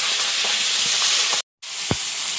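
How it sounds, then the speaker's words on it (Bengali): Nigella seeds, garlic, green chili and chopped onion sizzle in hot oil, a loud, continuous frying hiss with a brief break and a few soft stirring knocks, no voices. "তেলে এখন একটু কালো জিরে, রসুন, কাঁচা লঙ্কা, পেঁয়াজ কুচি দেবে"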